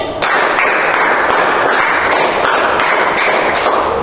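Schoolchildren in a classroom clapping in unison, a loud sustained run of rhythmic group claps repeating a counted pattern, filling the room with dense overlapping hand slaps.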